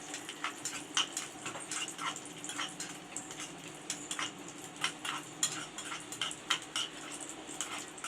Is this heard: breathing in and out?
no